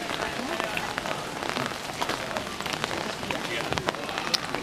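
Steady rain falls on a street in Kyoto, a dense continuous patter of drops with occasional sharper splashes, fairly close and even throughout.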